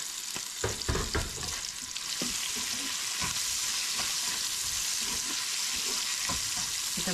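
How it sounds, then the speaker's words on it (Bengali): Garlic with a spoonful of salt sizzles in a hot pan while being stirred, sharp scraping strokes of the spoon in the first seconds giving way to a steady, close, crackling fry. "এটা ভালো করে হালকা ব্রাউন করে একটু ভেজে নিই"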